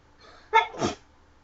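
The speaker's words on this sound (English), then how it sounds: "try not to sneeze." A person lets out one quick, sharp sneeze, a short two-part burst that may be acted out while telling a story. It is close and stands alone, with no talk around it.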